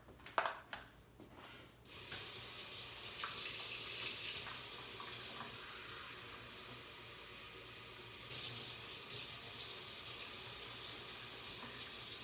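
Warm water runs steadily from a tap for bread dough at a camp, a continuous hissing stream that lasts most of the clip, with a few handling knocks at the start.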